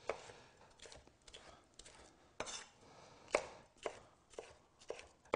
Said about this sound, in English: then I'll go back and just cut strips, long strips like this,